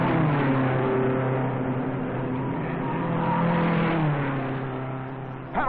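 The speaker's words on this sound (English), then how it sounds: "Pat O'Connor's number 12 roars away from the pole position to the lead" Race cars accelerate from the start of the 1957 Indianapolis 500 as the pole-sitting number 12 pulls into the lead, a loud, continuous, multi-engine roar with rising and falling harmonics and no talk.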